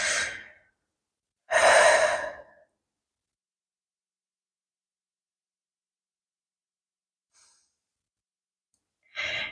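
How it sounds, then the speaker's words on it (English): Deep breaths during a sacral chakra yoga session: a soft exhale, then a longer, fuller breath, a long quiet pause, and another breath at the end, each heard up close and alone. "Couple nice big deep breaths here."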